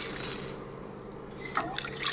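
Water being poured into a pot of mushroom soup: a soft, steady liquid trickle close by, with a brighter splashing burst near the end.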